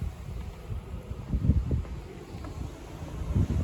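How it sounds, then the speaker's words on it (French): Strong storm wind buffets the microphone in gusty, rumbling bursts that rise and fall, loud and close, outdoors as rain begins. "Le vent là, il part en couille"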